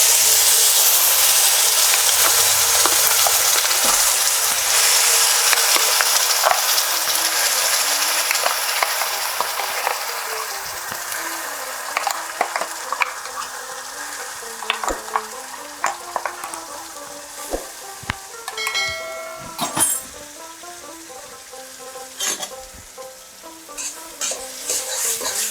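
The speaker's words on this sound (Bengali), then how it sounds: "এবার ধনেপাতা বাটাটা অ্যাড করে দেব।" Coriander-leaf paste hits hot oil tempered with two dry red chillies and half a teaspoon of mustard seeds for a chutney, giving a loud, steady sizzle that slowly eases while a spoon stirs and scrapes in scattered clicks.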